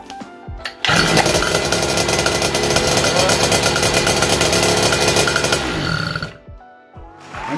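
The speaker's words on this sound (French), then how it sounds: "Bah on la démarre. On ouvre l'essence." MBK 51 moped with a Nitro hybrid engine being kick-started, a brief cough and then a loud, raspy two-stroke buzz running close for several seconds before dropping off.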